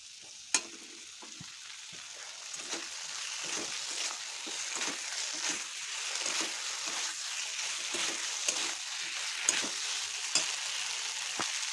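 Ginger and cumin paste fries in a pan for a coconut-based dhokar dalna, giving a steady crackling sizzle with repeated scraping stir strokes and a few sharp clicks, with no voices present.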